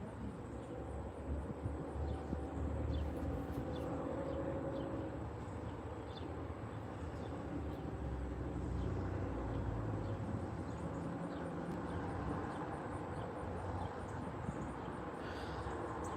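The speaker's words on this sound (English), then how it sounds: "Sounds like a Gevo in the lead." A Norfolk Southern southbound train led by a GE Evolution locomotive, passing near a rail diamond in Dalton, Georgia, a steady, continuous low rumble and drone throughout, with faint birds in the background.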